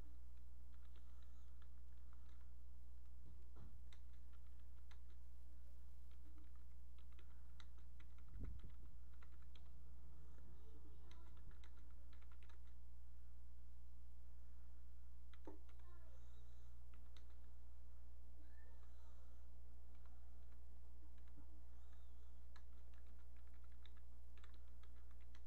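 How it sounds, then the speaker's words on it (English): Steady typing on a computer keyboard, a continuous patter of close, soft key clicks over a constant low hum, lasting a long stretch without talk. "bear with me while I type this out"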